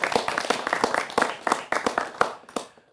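A small group claps in scattered, uneven bursts in a studio setting during a sports policy discussion, a few hands heard fairly close, the clapping thinning out and stopping within three seconds.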